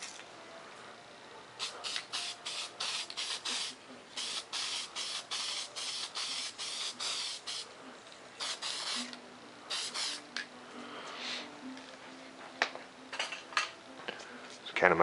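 Short bursts of spray paint hiss in quick succession as a light coat goes onto a model stealth fighter jet, each puff separated by brief pauses, close and fairly quiet.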